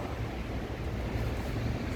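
Strong gusting wind roars across a rooftop in Busan, a steady, dense rush of noise buffeting the microphone for two seconds with no voices.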